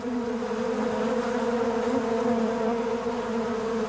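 Bees buzz around a honeycomb in a continuous, even, dense drone of many insects, close and steady throughout with no voices.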